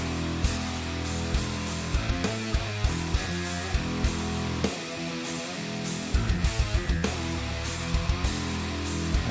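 A dense metal mix with heavy drums, driving distorted guitars and bass, playing loud and continuous with a brief dropout in the low end midway, left without any stereo bus processing.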